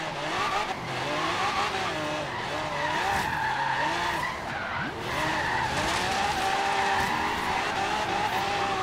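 Forza Horizon 3 race car drifts with sustained tire squeal and skidding over a revving engine whose pitch wavers and sweeps through gear changes, loud and continuous throughout.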